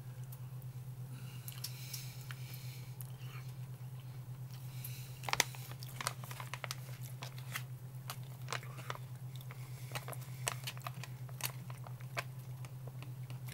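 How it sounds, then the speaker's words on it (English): Crunchy rehydrated Mountain House biscuits and gravy being chewed close up, a steady run of small crisp crunches and bites over a low constant hum, with no talking. "The biscuits have much of a crunch to it."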